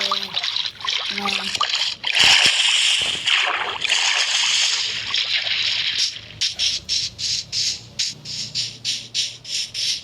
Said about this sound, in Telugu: ఆ పక్కంతా సముద్రం ఉంది. ఒక బోట్ పోవాలి.